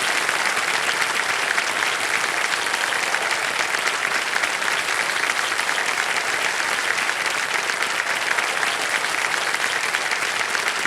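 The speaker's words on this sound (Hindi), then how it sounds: "ताली बजती है।" Sustained studio audience applause at a Hindi TV quiz show set, dense and steady clapping from a large crowd filling the whole stretch at even loudness, with no talk over it.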